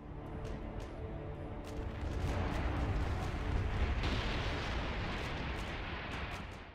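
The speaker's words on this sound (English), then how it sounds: "A bombing run happens on the White House" Bombing run explosions hitting the White House in Modern Warfare 2, a dense, continuous roar of heavy blasts and rumbling that swells and stays loud, with sharp cracks scattered through it.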